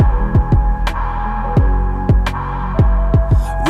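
A song plays with a steady, repeating snare drum soaked in reverb. Evenly spaced hits with long tails sit over a low, sustained bed of synth and bass.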